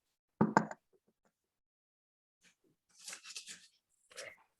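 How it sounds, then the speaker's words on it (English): Sharp knocks on a door, a stage play sound effect, come as a quick loud pair at the start, followed by quieter rustling and a few faint voice-like sounds. "Knocking within."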